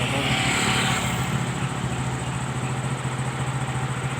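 Motorcycle engines running on a newly concreted village road, a steady mid-distance engine drone with a low throbbing rumble, slightly louder at the start and then holding even for the rest of the clip.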